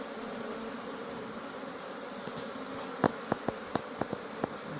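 Honey bees at a spring apiary hum as a steady, moderately faint drone. Several short, sharp ticks or taps cut through near the end.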